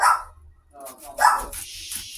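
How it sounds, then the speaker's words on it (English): A dog in a home kitchen gives a couple of sharp, close barks separated by a short pause, loud and distinct against a quiet background. "What's Coco barking about?"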